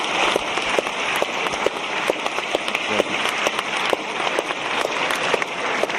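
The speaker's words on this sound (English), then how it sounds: "I just want to collectively give them" An audience applauds event organisers at a talk on whether we live in a simulation, a loud, continuous wash of clapping that fills the room, with no talking.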